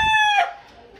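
Rooster crowing among chickens, a loud harmonic crow close by that cuts off partway through, followed by quieter clucking and farmyard sounds.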